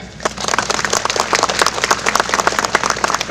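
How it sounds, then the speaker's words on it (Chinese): Hearty applause from county government staff at a February flag-raising ceremony in Hualien, a dense, steady clatter of many hands, close and fairly loud throughout, with no voices over it. "我们为我们的佳绩自己掌声一下"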